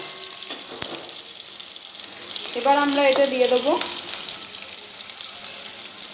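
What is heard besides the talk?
green chillies frying in a pan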